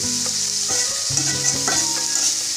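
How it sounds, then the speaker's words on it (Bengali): Chicken pieces stirred and fried in a pan over medium heat make a constant close sizzle, broken by repeated scraping strokes of a spatula against the pan in an uneven rhythm, with no voices. "এবার চিকেনগুলো ভালোভাবে নাড়াচাড়া দিয়ে ভেজে নেব"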